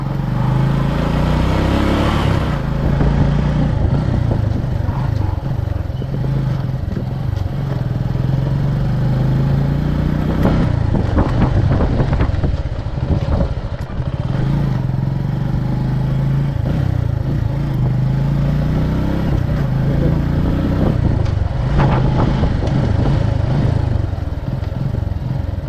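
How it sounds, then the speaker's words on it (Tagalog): A motorcycle engine runs steadily close by as the bike is ridden across to the other side near a slippery canal edge, a continuous mid-pitched drone with revs swelling around the middle and again later. "Pasok ko lang yung motor doon sa kabila."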